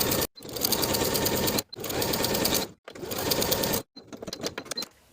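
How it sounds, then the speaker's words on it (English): A sewing machine stitching a cardigan sleeve seam, close and loud, running in three steady bursts of rapid whirring needle chatter separated by brief pauses, then a shorter, choppier run at the end. "Sew the sleeve in place with a 3/8 inch seam allowance"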